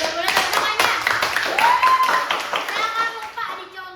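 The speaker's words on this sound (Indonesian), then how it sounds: "Luar biasa Mandua, boleh tepuk tangannya" Audience clapping at a student council school forum, dense hand claps with a voice and other voices mixed in throughout.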